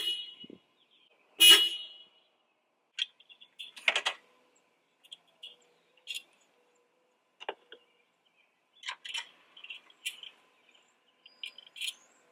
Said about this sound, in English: let's take a listen on how these horns sound